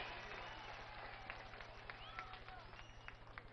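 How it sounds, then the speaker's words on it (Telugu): Audience applause at a politician's speech at the Polavaram Project in Andhra Pradesh, a steady wash of clapping beneath a voice over the loudspeakers, with a low electrical hum running throughout. "గట్టిగా చప్పట్లు కొట్టి మీ హర్షాన్ని,"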